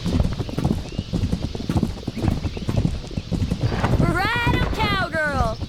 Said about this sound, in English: The horse sound effects in that game.